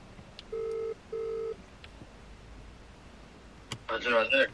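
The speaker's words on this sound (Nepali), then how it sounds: "विशाललाई फोन गर्छु" Two steady touch-tone beeps from a phone dialing a call, sounding close and clear against a quiet background, followed by a short click and then a brief burst of ringing or voice on the line.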